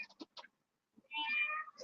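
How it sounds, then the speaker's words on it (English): A house cat meows once, a clear, close, medium-loud cry that follows a few soft clicks and taps, with nothing else around it. "Oh, and here comes that damn cat."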